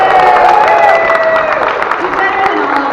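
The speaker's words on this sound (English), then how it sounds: "Big round of applause for Trish." Applause and cheering from a comic convention panel audience fill the room steadily, with voices whooping and talking over the clapping throughout.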